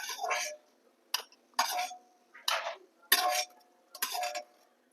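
A spoon clinking against a plate while fried cashews are lifted out of oil: six short bright metallic clinks and scrapes at a steady pace, close and fairly quiet.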